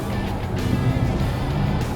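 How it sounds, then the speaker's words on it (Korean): An Audi e-tron GT electric car plays its artificial e-tron sport sound, a steady, engine-like low hum coming from the rear at moderate volume for about two seconds, with no voices. "대부분의 이 이트론 스포츠 사운드는 뒤쪽에서 들리거든요."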